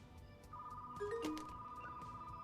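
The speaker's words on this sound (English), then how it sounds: "Now the phone's ringing?" A telephone rings faintly in a retro video store, a sustained electronic tone with a brief warbling trill partway through, heard alone and quiet in the room.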